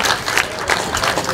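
Applause from a crowd at a speedway meeting for rider Nathan Stoneman: a steady broadband patter of many hands clapping at a moderate distance, continuing without a break for a second or so.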